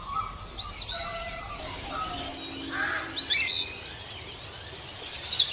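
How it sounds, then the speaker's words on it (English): Blue jay, a bright blue and grey songbird of the crow family, calling in a series of sharp, high chirps and repeated call notes that grow denser toward the end, heard alone without talk over soft background sound. "A blue jay is a songbird that belongs to the crow family."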